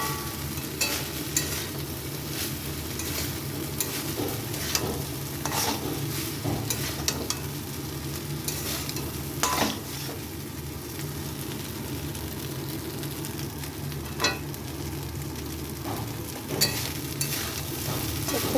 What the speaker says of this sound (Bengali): খুব ভালো করে ভেজে নিতে হবে